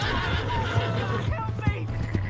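A horse whinnies with rising and falling calls in Red Dead Redemption 2, over game music and a low steady hum, with voices talking alongside.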